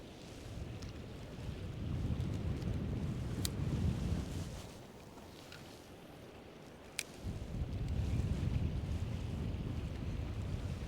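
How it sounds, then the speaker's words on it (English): Cold wind gusts outdoors at a fishing spot, buffeting the microphone with a low roar that rises and falls in waves, with a couple of faint clicks and no talking. "The wind is cold."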